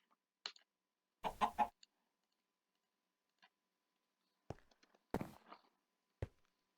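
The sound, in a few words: chicken clucking in a video game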